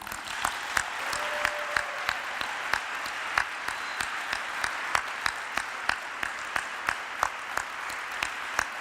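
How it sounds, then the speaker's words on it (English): Audience applause at a Latin dance partnering lecture, sustained crowd clapping with sharp individual claps popping out at a fairly regular rhythm over the steady patter, moderately distant and unbroken. "please give her the best applause that you possibly can give"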